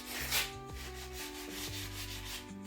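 Wooden furniture being sanded by hand with steady finger pressure, a close continuous rubbing scrape with a faint rhythmic back-and-forth pulse.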